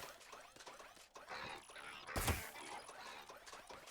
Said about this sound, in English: They're shooting, but nothing is happening.